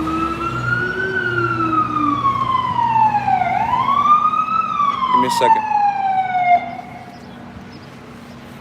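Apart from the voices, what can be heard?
ambulance siren passing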